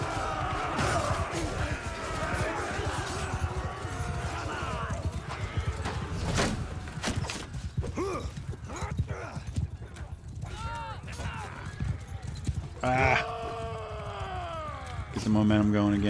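Rapid clattering hoofbeats of horses galloping through a battle in Mount & Blade II: Bannerlord, mixed with combat clashes, a whinny and game effects, with someone talking over them.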